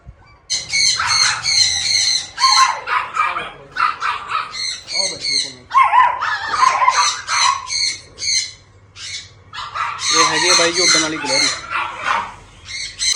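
Several dogs, including an American Bully, bark loudly and repeatedly in bursts inside an exotic bird and pet shop, with birds squawking nearby and voices in the background.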